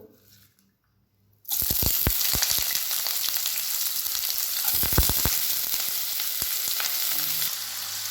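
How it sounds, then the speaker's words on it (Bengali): Chopped onions hit hot oil that has just fried dried red chillies, for a Bengali spicy mashed potato dish. A sudden loud sizzle follows a quiet start and continues steadily, with occasional sharp stirring clicks. "কুচনো পেঁয়াজগুলো দিয়ে দেবো।"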